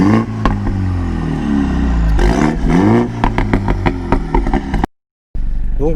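Mini John Cooper Works engine revving with its exhaust valve open, loud throaty blips rising and falling in quick succession with crackling pops between, close by, before a brief cut to silence and a resumed idle.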